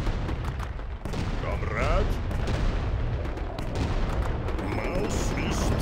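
Soviet artillery and guns roaring in the WWW RTS strategy game, with a dense continuous rumble of cannon fire and explosions and brief higher whistling sweeps, while a voice speaks a short word over the din.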